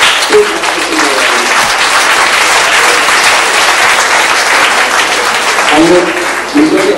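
Audience applause at an outdoor summer band concert, a dense, loud, sustained clapping with a voice speaking briefly at the start and near the end.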